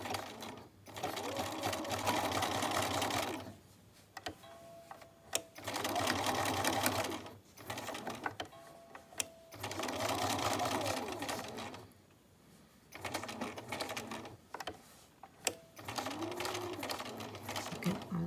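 Sewing machine stitching scrap fabric patches in straight and zigzag stitches, running in several bursts of steady mechanical whirring separated by short pauses, with quiet talk in between.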